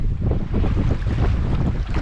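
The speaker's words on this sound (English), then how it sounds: "The wind loading at the end of the lake here is making these waves pretty big." Strong wind buffets the microphone over choppy lake water, with waves slapping steadily at the windy end of a lake; a dense, continuous rumbling roar with no talk.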